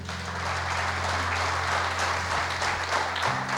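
A church congregation applauds during a sermon, steady sustained clapping from many hands filling the room at moderate loudness over a low hum.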